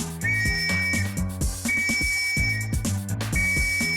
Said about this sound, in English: It's why a police whistle is a real blast from the past.